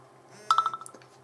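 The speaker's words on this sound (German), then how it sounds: "Sorry, das war mein Handy." Mobile phone notification: a quick run of bright electronic beeping tones, a few evenly spaced pips that fade out within a second over a quiet room hum, with no voices.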